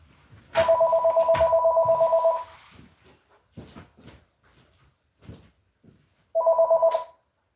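A telephone rings in a home during a live stream: one long electronic ring of about two seconds, quiet clicks and handling sounds, then a shorter ring starting again.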